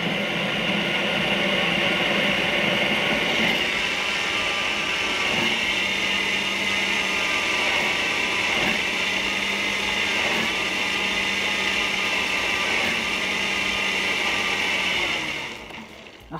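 An electric blender whirs steadily at high speed, whipping oil for homemade cheese, a loud continuous motor drone that runs almost sixteen seconds before cutting off at the end.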